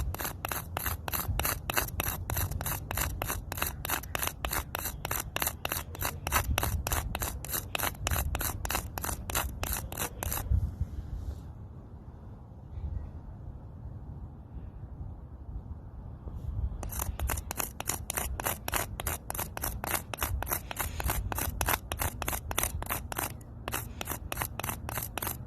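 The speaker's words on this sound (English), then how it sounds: "You guys can actually scrape it onto the pavement or a brick and" A metal bar is scraped rhythmically against pavement to round off its corners, producing fast, repetitive rasping strokes up close, pausing for several seconds midway before the grinding resumes at the same pace.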